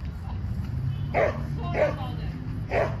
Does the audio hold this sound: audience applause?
no